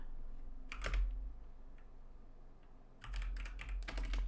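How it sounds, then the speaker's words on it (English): Typing on a computer keyboard: two bursts of quick, uneven key clicks close up, separated by a quieter pause with a low background hum. "I'm just typing it in."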